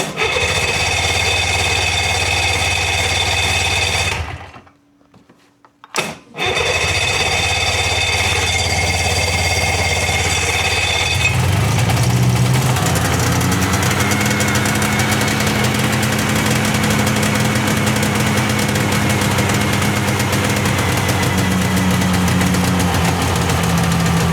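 A snowmobile engine idles steadily without choke, a loud, even mechanical rumble that drops out for about a second, then returns and shifts to a rougher, knocking idle with a slowly wavering pitch.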